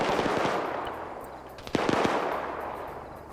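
Rapid gunfire bursts from a first-person shooter video game, with a sharper cluster of close shots in the middle standing out over a steady background of game noise.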